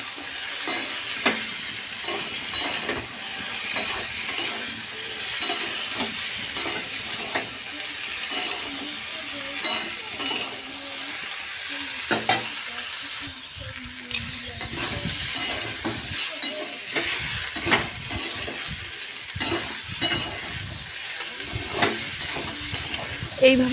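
Cauliflower, potato and peas stirred with onions in a frying pan, a spatula scraping in repeated strokes over a continuous sizzle and hiss, close, with brief soft speech in places.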